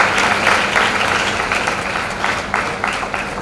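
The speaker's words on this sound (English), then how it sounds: "They deserve a huge round of applause." A school valedictory audience applauds the performing arts department, a steady dense wash of clapping from a large hall crowd that holds at an even level throughout without any talk.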